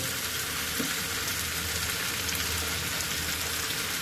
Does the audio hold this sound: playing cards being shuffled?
no